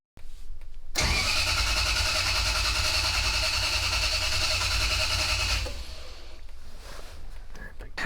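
A Toyota 1UZ V8 engine in a pickup with a Spitronics ECU is cranked by the starter for about five seconds, a loud, steady churning whir that stops abruptly, followed by quieter background noise.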